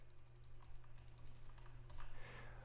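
Rapid mouse clicks on follow buttons, a quick run of light, evenly spaced ticks over a steady low background hum, close and fairly faint.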